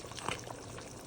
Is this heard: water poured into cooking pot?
yes